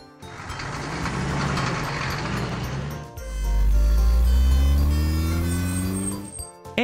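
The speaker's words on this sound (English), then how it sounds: "Garbage truck." A garbage truck engine rumbles steadily and loudly for about three seconds, then a deeper, heavier roar takes over with rising tonal whines climbing above it before cutting off abruptly.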